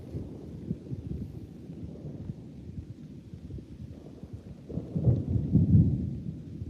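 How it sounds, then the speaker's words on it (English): Thunder rumbles low and steady during a storm at an outdoor fishing spot, swelling into a louder, deeper roll near the end, with light rain and wind noise beneath it. "starting to thunder."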